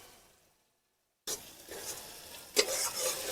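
Lote fish (Bombay duck) is sautéed and stirred in a hot pan for a spicy jhuri. A brief hush gives way to close, steady sizzling with scraping stirs that grow louder toward the end.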